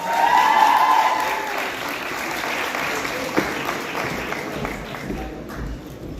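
Audience applause fills a graduation ceremony hall at a medical university, a dense, steady wash of many hands clapping that fades slightly toward the end, with faint voices underneath.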